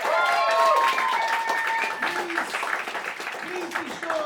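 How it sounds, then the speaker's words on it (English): Applause for the contestants at the close of a comedy show, a steady clatter of clapping with a crowd cheering and whooping over it and voices rising throughout. "Let's give a big round of applause for our incredible contestants."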